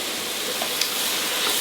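Mushrooms and onion fry in olive oil for a vegan sweet potato soup, giving a steady, close sizzle and hiss from the pan with a faint scrape of stirring.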